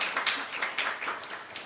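A church congregation claps together at a Sunday morning service, offering light, fairly quiet applause that holds steady for a couple of seconds, with no voices on top.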